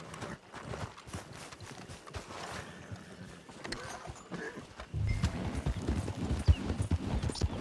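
Hooves of a trained horse clip-clop in a steady, fairly close rhythm, growing louder and more insistent in the second half.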